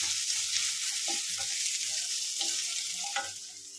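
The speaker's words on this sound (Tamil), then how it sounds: "வெங்காயம் கொஞ்சம் நேரம் வதங்கட்டும்" Onion and two green chilies sauté in oil with mustard seeds and cumin, a steady close hiss with small crackles and a few light stirring scrapes, no voices.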